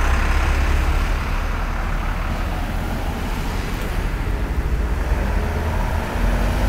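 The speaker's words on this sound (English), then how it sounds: "All those cars coming from West Bay Street." Steady road traffic near West Bay Street in the Bahamas by Baha Mar, with cars and trucks passing in a continuous loud rumble throughout, no talking.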